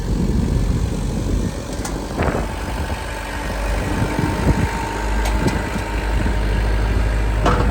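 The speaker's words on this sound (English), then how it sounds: "How many horsepower is that tractor, Dallas?" A small tractor engine rumbles steadily throughout on a farm, with occasional clanks and knocks over the low idling drone, close by.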